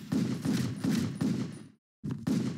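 Handgun fire in the action game Total Overdose: four rapid bursts of loud, close shots in a steady rhythm, a brief silent gap, then two more bursts.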